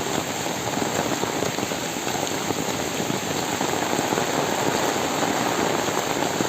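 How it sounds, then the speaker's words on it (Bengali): Steady rain falls on a muddy village path, a dense, even patter of drops that holds at the same level throughout with no talking. "একদিকে বৃষ্টি হচ্ছে"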